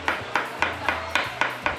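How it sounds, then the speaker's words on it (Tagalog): Steady pounding on a fish pond post, used to call arapaima fish: seven evenly spaced sharp knocks at a brisk, regular rhythm, fairly close with a low hum underneath. "pinupukpok lang nila ang poste ng fish pond"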